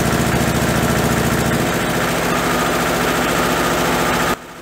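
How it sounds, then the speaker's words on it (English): An engine fitted with a larger, longer muffler runs at a steady, loud, deep idle with a throbbing pulse, then cuts off abruptly just before the end. "using a larger and longer muffler, I think I made it even louder"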